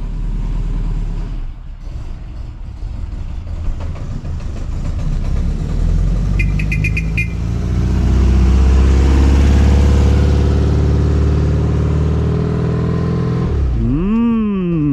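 A car pulls away on a test drive after a sway bar and headlight install. The engine idles, then builds into a loud, close, rising drone, with a brief clicking mid-way and a whine that sweeps up at the end.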